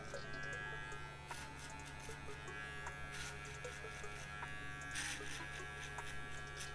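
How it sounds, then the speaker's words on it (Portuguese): A small electric finishing trimmer buzzes steadily and faintly during a razor part haircut, its hum punctuated by brief clicks and strokes. "Agora a maquininha de acabamento."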